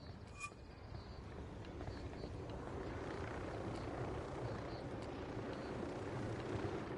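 A loud, steady video game helicopter rumble with broadband rotor and engine noise holds throughout, building slightly after the opening second.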